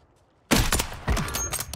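A video game sniper rifle fires one sharp, loud shot after a near-silent start, followed by a second crack and a rumbling echo that tails off quickly.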